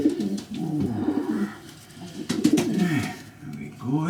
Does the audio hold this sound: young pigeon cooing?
yes